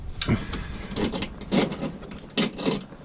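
Quarter-inch ratchet being turned up inside a car's wheel well while a crankshaft position sensor is replaced, giving a few bursts of rasping clicks separated by short pauses, close and moderately loud.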